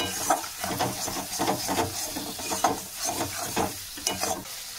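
Masala with turmeric powder and salt sizzles in a hot pan for a fish curry while a spoon stirs it in quick repeated scrapes, a soft steady fry under rhythmic strokes, close and unaccompanied by speech.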